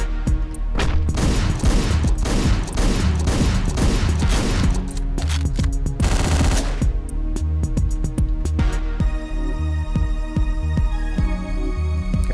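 Rapid gunfire in the top-down action video game Hotline Miami, dense bursts of shots for several seconds, a short lull, another burst, then a synth music bed with scattered shots, all loud and close with no talk.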